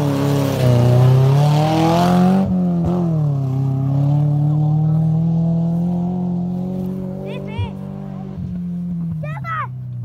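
A 4x4 off-road vehicle climbs a bing in first gear in Broxburn, Scotland: a steady, loud engine drone that rises slightly in pitch, with voices talking over it and brief thuds.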